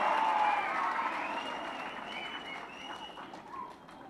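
An audience claps together in a hall during a Tamil speech event, a dense, fairly loud wash of applause that fades slightly, with a brief whistle-like tone at the start.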